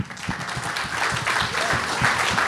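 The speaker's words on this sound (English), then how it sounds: "please give yourselves a gigantic round of applause" Loud, dense applause from a live audience at a San Francisco comedy show, a steady roar of many hands clapping that holds strong for the full stretch without any talk over it.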